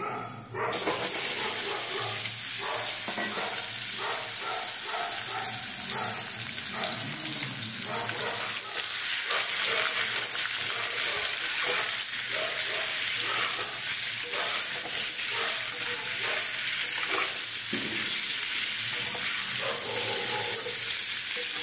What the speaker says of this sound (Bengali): আর এই যে আলুটা দিয়েছি না, লঙ্কা, নুন আর হলুদ, এটাকে এইভাবে একটু নাড়িয়ে তারপরে দেব।